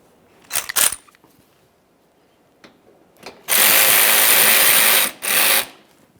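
A ratchet drives a 10mm bumper mounting bolt on a 2009-2014 Nissan Maxima, with a couple of short clicking pulls, then two long fast ratcheting bursts, loud and close, with no talk.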